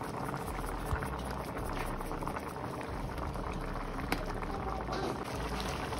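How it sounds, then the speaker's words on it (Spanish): Water added to a pan of chicken with mushrooms already cooking on the stove, a steady loud bubbling and sizzling hiss with a couple of brief clinks. "Vamos a echarle un poquito de agua y listo"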